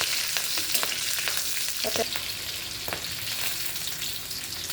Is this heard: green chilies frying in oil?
yes